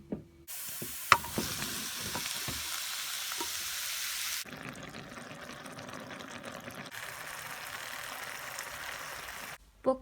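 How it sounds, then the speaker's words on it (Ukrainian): A steady, close sizzle of onion and mushrooms frying in butter in a pan runs throughout, with a few clinks of a utensil early on and a change in intensity midway. "на вершковому маслі я підсмажую спочатку цибулю, а потім додаю гриби"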